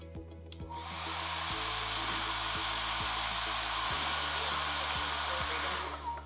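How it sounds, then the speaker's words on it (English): A hair dryer blowing air onto a homemade anemometer, a steady loud whooshing roar with motor hum switching on and running continuously for several seconds, a faint rhythmic ticking of the spinning cups beneath. "So here I will blow the wind to show you all how does an anemometer moves."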